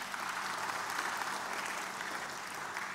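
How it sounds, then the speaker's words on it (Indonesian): Church congregation clapping together during a sermon, a steady, even rush of many hands heard from some distance, fairly soft and continuous for a few seconds. "Tolong tepuk tangan dulu."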